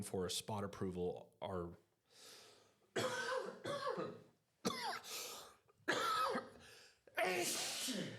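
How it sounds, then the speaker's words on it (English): A person coughs a few times and clears their throat between stretches of speech, the coughs sharp and close. "sorry, a little cough and sneeze attack here"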